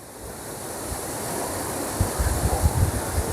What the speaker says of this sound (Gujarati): જો આ છે જમજીનો ધોધ અને આપણે સામે જઈએ પાણી ફોર્સથી પડે છે